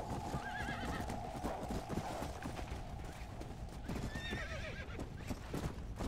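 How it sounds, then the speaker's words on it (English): A horse whinnies twice amid steady clip-clopping hooves, over a constant busy background hum, in the video game Red Dead Redemption: Undead Nightmare. "Get on the horse."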